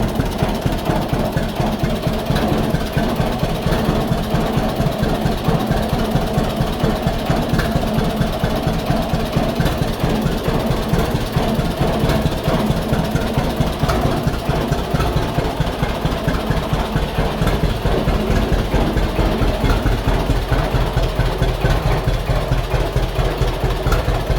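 A gear-driven tractor engine runs steadily at close range, a loud continuous low rumble with rapid rhythmic chugging that holds throughout without pauses.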